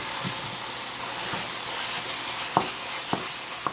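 Ground beef seasoned with black pepper fries in a pan, giving a steady loud sizzle with a few brief clicks and taps of stirring.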